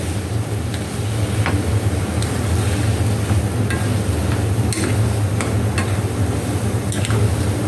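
Mura kochu stirred with garlic and shrimp in mustard oil crackles and sizzles steadily up close, with repeated sharp clicks and scrapes of the spoon against the pan.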